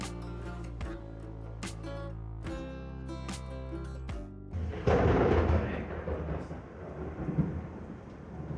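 Thunder rumbling during a storm on the Mississippi River at Baton Rouge, a loud deep roll breaking in midway through and rolling on over a dense wash of rain, after a stretch of steady low tonal sound.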